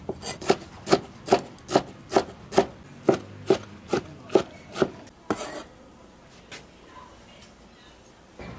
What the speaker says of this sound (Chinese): 把水分捏干，切碎。